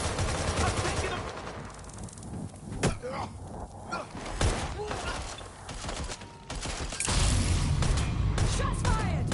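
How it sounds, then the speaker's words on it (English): Gunfire crackles in a Watch Dogs Legion firefight on hard mode, scattered sharp shots and bursts at irregular intervals over game ambience, some closer and louder than others. "Shots fired!"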